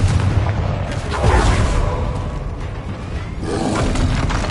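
Confringo fire spell blasting in the video game Hogwarts Legacy: a booming explosive burst that peaks near one second, then a second rumbling impact later, over continuous game background noise.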